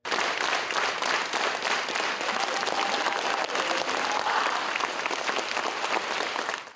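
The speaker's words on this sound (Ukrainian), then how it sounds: "проводжали поета гарячими оплесками" Warm applause from an audience at the close of a poetry reading by a poet in Kremenchuk, dense steady clapping that holds throughout and fades at the very end.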